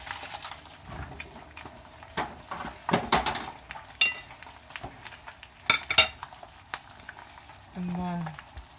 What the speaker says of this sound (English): And that's frying beautifully.